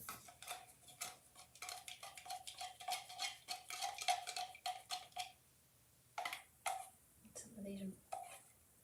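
Paint being stirred inside a rusty can, a rapid series of close scraping, tapping strokes for several seconds, then sparse knocks against the metal as talking comes and goes.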